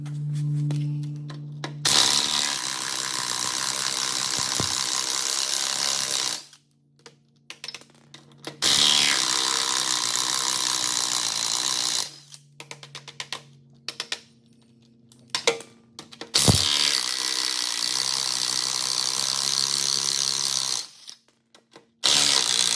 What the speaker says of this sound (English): So for now, let me get the wheels off,